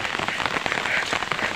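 Steady rain pours onto leaves during the rainy season on a pineapple farm, a dense, continuous hiss of countless drops pattering close and loud with no voices.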